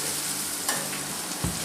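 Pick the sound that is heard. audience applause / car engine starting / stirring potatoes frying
stirring potatoes frying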